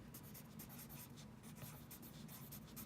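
Pencil writing out a math problem by hand for a fractions-to-decimals lesson, with steady scratchy strokes and short repeated scribbles, close up and fairly quiet with no talking.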